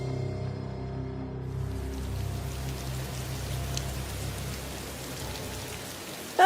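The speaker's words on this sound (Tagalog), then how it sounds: "Kumulimlim at sumabay ang malakas na buhos ng ulan." Heavy rain pouring steadily, a dense continuous hiss of drops on surfaces, constant and fairly loud throughout.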